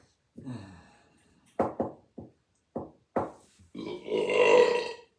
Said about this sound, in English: I'm burping some.